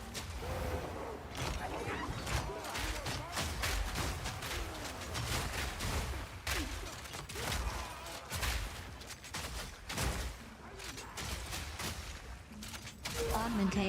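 Rapid bursts of heavy gunfire and explosive booms from mortar cannons in the video game Path of Exile 2 repeat in irregular volleys, loud and close, with a voice briefly heard among them.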